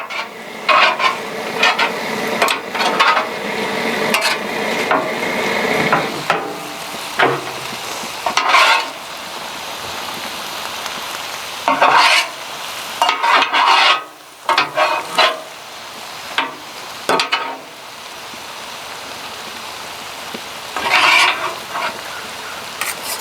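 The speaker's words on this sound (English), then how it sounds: "We got stir-fried shrimp with vegetables" Shrimp, snow peas, water chestnuts and ginger stir-fried on a Blackstone griddle, with loud sizzling broken by repeated scraping and clattering of spatulas against the hot flat-top, uneven bursts throughout and no voices.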